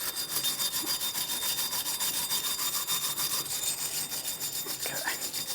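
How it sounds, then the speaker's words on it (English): A wire brush scrubs the bearing hub mounting surface of a 2012-2015 Honda Civic during a front brake job, giving a steady, rapid back-and-forth rasping close up, with no one talking. "Just going to use a wire brush for this."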